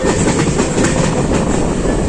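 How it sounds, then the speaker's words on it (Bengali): MEMU train pulling out of Bauria station, heard from on board as a loud, continuous rumble with rapid clickety-clack of wheels over rail joints and no voices. "আর ট্রেনটা ছেড়ে বেরোলো বাউরিয়া স্টেশন"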